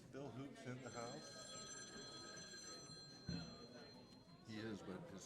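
A telephone rings with steady electronic tones during a city council meeting, heard under overlapping chatter and voices in a large room.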